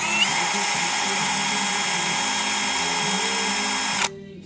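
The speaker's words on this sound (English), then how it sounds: "If you're gonna pad slap your car, chamfer your edges of your brake pad. Just take a wire wheel, chamfer it," Wire wheel on a power tool chamfering the edges of a car brake pad, a continuous loud high-pitched whirring grind held close for about four seconds before cutting off abruptly.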